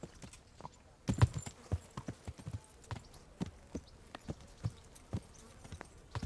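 Horse hooves in Kingdom Come: Deliverance clip-clop in an uneven rhythm, sharp knocks spaced about half a second apart, fairly close and clear over a quiet background.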